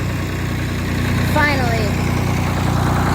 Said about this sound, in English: We're finally able to drive the tractor with the house